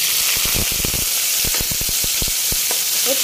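Ginger and garlic frying together in ghee give off a constant close, loud sizzle, broken by a run of quick crackling pops and spatters spread across the whole stretch.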